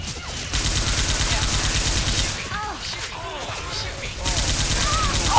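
Rapid bursts of automatic gunfire from teammates in Left 4 Dead 2, fighting through The Parish, dense and loud, with a quieter gap partway through and brief shouted voices mixed in.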